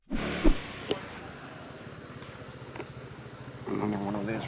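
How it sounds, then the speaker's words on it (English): A katydid-like insect in Taiwan keeps up a steady, high-pitched continuous trill from close by, broken by a few faint knocks and soft rustling sounds. "that's not a cicada. It is a katydid-like creature."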